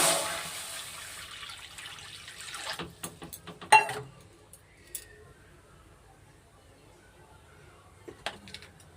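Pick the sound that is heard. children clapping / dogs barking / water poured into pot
water poured into pot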